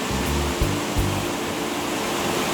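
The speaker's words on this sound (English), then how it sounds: "today is raining." Heavy rain in New Zealand pours in a dense, steady hiss, with a low hum and a few faint knocks underneath.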